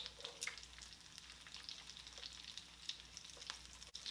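Calamari frying in hot oil with coconut, a steady dense sizzle with crackling pops throughout, close and fairly quiet, ending on a brief clunk.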